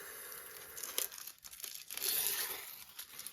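Backing paper peeled from a diamond painting sticker gives close, crinkly tearing and crumpling bursts, with a sharp crackle near the start and a longer rustling stretch toward the end.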